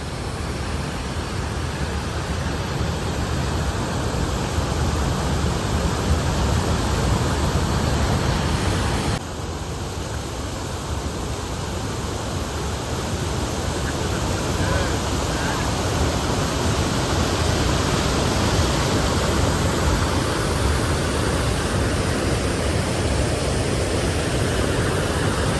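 A waterfall pouring steadily, a loud, dense, continuous roar of crashing water close by that stays constant for the whole stretch with no talking over it.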